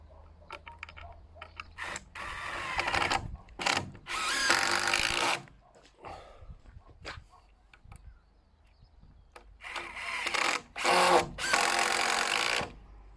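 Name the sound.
power drill driving screws into roof truss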